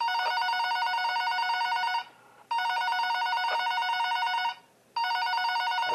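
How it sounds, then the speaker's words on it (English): A loud telephone bell rings in the Five Nights at Powerpuff Girls video game, sounding in three long bursts with two short gaps between them and no talking over it. "I forgot how loud that phone was."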